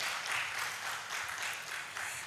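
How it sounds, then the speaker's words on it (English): An audience at a Ghana health survey report dissemination event gives an award-winning team a round of applause: a continuous, fairly faint wash of clapping from a distance, with no voices over it. "I wish you give them a round of applause"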